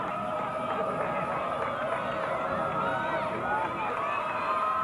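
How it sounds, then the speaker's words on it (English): A crowd at a 1997 CIF Division I high school baseball game cheers and hollers from the third base side, a steady distant roar with a commentator talking over it. "Both sides of the crowd getting into it."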